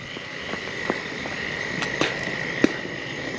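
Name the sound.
southern toad calling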